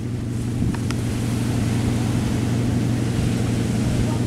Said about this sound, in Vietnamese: Động cơ Hino nha các bạn.